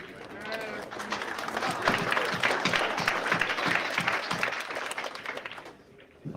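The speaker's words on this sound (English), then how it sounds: "Nice round of applause there" Spectators at the Efren Reyes vs. Thorsten Hohmann 9-ball pool match in NYC, 2024, break into a dense round of applause that builds, holds for several seconds, then tapers off near the end.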